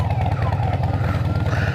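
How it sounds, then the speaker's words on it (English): A car alarm wails in looping electronic tones, heard over a loud, rumbling Harley motorcycle engine idling close by. "You set off a car alarm."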